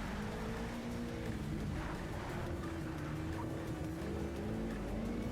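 Race car engines in the video game Project Cars 3, a quiet continuous engine drone with shifting pitch as several cars run close together.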